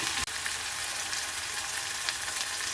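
Pounded lemongrass and spice paste sautés in hot oil with a constant bright sizzle, close and even, with a single soft knock near the start.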